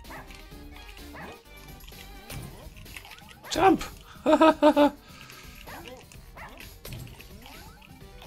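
Small dog barking and yipping in the video game Russian Subway Dogs, a burst of several quick yaps followed by another rapid run of barks, heard over game music while a player talks.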